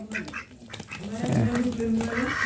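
Male ducks quack in short, raspy bursts close by while they are being fed, and a voice is heard among the calls.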